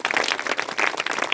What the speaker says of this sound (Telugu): నమ్మిన వాళ్ళు చప్పట్లు కొడతారా?